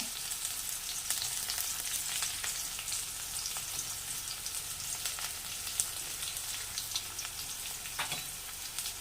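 Onion and curry leaves sautéing in hot oil in a pan give a dense, steady crackling sizzle throughout, with occasional sharper pops, close and continuous with no talking.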